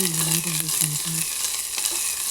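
Chopped onions, with chana dal added, fry in a pan for a tomato sambar, giving a steady broadband sizzle that runs throughout. A low, pitched hum drones under the first half, and faint clinks come through now and then.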